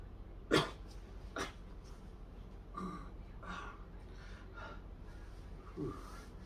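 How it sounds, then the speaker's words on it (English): A person recovering from kidney removal surgery coughs softly several times, a few short, faint coughs spaced apart in a quiet room. "Coughing's the worst."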